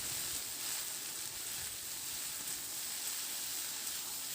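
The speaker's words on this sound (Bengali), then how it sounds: "তো রান্না করার আগে এইভাবে করে একটু আলু আর চিচিঙ্গাটাকে ভেজে নিলে ভালো হবে।" Ridge gourd and potato pieces frying in a pan: a faint, even sizzling hiss that holds steady throughout, with no speech.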